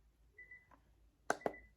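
A Samshow alarm clock sounds a faint, steady beep tone, briefly interrupted and then resumed, with two sharp, loud clicks close together near the end.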